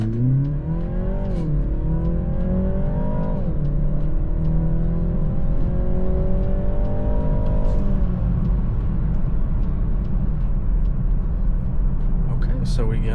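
A BMW 330i with a JB+ tune accelerates hard, its engine note rising through several gear changes and then easing off into a steady cruising rumble inside the cabin.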